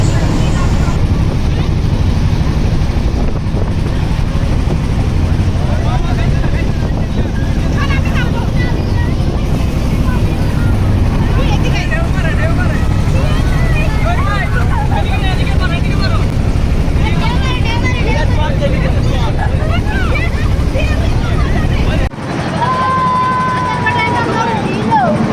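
Motor trawler boat chugging on the Meghna river near Ramgati, a loud steady engine drone with water wash close by, mixed with voices talking over it, before the engine noise drops sharply near the end.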